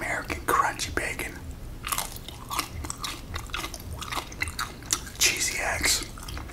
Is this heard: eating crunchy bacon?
yes